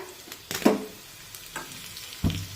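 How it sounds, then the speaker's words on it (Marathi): Spices for a tempering sauté in a pan, quiet background sizzle broken by a few short stirring scrapes and clicks, close and fairly faint, with no speech. "हे सर्व साहित्य परतून घेऊया"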